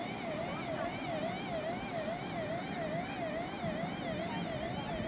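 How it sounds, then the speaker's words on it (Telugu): A police siren at Malpe beach wails continuously with a steady up-and-down warble, loud and close, over a constant rushing wind and surf noise, with no talking. "ఇక వీడు సైరన్ వేసుకొని వచ్చేసిండు."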